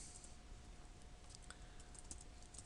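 Quiet, close keystrokes on a computer keyboard as a network switch command is entered, light rapid clicks over a steady low hum.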